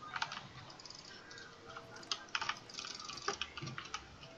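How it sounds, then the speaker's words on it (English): Rapid, intense mouse clicking during a Minecraft Bed Wars match, a dense run of close, sharp clicks in uneven bursts, with no one talking. "Can you hear my intense clicking?"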